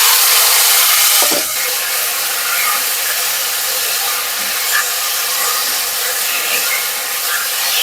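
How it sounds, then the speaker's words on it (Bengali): Pieces of chalta (elephant apple) hit hot oil already crackling with nigella seeds, a sharp onset giving way to a steady broadband sizzle that stays loud and continuous, with no voices. "এইবার আমি দিয়ে দেবো চালতাগুলো।"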